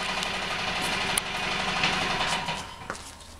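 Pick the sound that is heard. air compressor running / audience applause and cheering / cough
air compressor running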